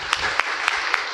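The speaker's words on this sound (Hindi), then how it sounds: "ताली बजाए बोले।" A small audience at a spiritual talk claps in a brief, sparse burst, a few distinct hand claps spaced roughly evenly, fairly close and clear.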